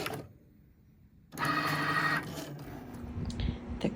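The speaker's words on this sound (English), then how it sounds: "I'm using the Cricut to cut the luggage tag" A Cricut cutting machine slices faux leather luggage tags, a steady motorized whir and rattle that starts abruptly after a quiet moment and runs on, fairly close, with shifting mechanical clicks as the blade carriage moves.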